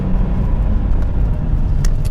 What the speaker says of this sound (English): Ah, man, that engine sounds really good.